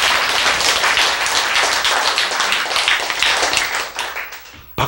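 Audience applause in a Korean lecture hall, dense steady clapping from a crowd that holds for about four seconds and then thins out and fades, fairly loud and without talk.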